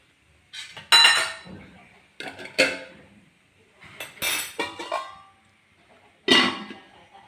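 A metal lid clatters and clinks repeatedly onto a cooking pot holding tapioca and fish, in several bursts of rattling contact over a few seconds, close and fairly loud, with no talking.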